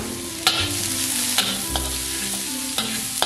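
Belacan paste with dried shrimp and petai stir-fried in a wok, a steady close sizzle broken by several sharp scrapes and clanks of the spatula against the pan.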